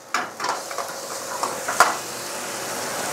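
Keema mince frying in a tomato-onion masala, with a soft sizzle under scattered stirring scrapes and a few light utensil clinks, one sharper clank near the end.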